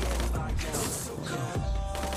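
Rapid bursts of gunfire crackle over a dense, busy game soundscape, with shots overlapping in quick succession.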